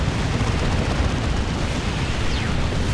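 Explosive barrages from tank buster strikes in Dawn of War 2, a dense, continuous roar of blasts and rumbling booms with no clear gaps, loud and sustained throughout.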